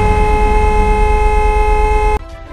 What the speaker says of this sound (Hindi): अब चलो चलते हैं जीप पर और जीप का हॉर्न सुनते